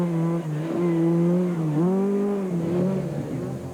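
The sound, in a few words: full-blown rally car driving through tight corners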